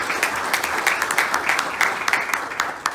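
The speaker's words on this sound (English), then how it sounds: "let's give him a round of applause" Audience claps briskly through the whole short stretch at a business gathering, steady and fairly close.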